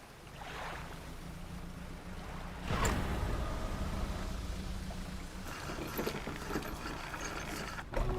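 A boat engine in the fishing video game Dredge chugs with a steady low hum under wind and lapping water, joined by a sharper splash or knock partway through.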